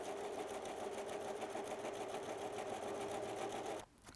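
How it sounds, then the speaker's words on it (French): Sewing machine or serger running a rolled zigzag edge along organza, a steady rapid stitching chatter heard close up that stops abruptly near the end. "je vais aller faire sur le cercle extérieur et sur les côtés un petit rouloté, soit à la surjeteuse, soit à la machine à coudre à l'aide du point zigzag"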